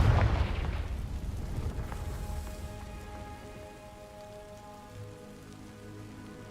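A Confringo fire spell bursts onto dry vines in Hogwarts Legacy, opening with a loud crackling whoosh that settles into a steady, rain-like hiss and crackle of burning, fading gradually over several seconds.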